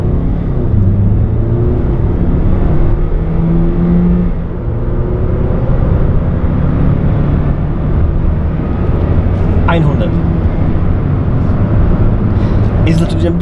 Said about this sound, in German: Achtung, ich mache Vollgas.